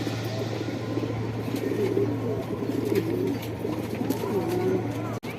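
Low, soft cooing of Shahjahanpuri pigeons runs steadily throughout, a continuous murmuring drone close by, with a sharp click near the end.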